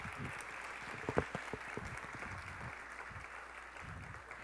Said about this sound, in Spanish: Un aplauso para ella muy especial.